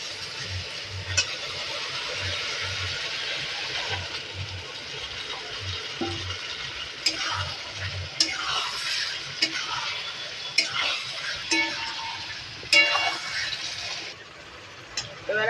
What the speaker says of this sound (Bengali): মেরিনেট করা চিকেনটা দিয়ে দেবো